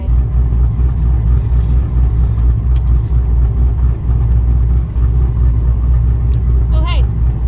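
Drag race car engine rumbling at the track at a drag week event, a loud, steady low-pitched drone with people talking over it.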